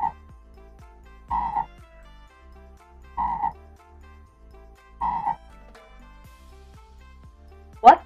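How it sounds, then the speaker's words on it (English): A frog croaks in four evenly spaced bursts about two seconds apart, fairly quiet against a low hum, ending with a short sharp sound. "It's the sound of a frog."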